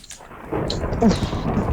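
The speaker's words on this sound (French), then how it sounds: "il y a de l'orage" Thunder rumbling in a video game storm, a low rolling boom swelling after half a second and sustained with rain-like hiss for under two seconds, fairly close and steady.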